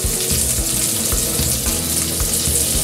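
Gnocchi searing in a hot pan, a steady broadband sizzle with low crackling pops running continuously and fairly loud, no voices over it.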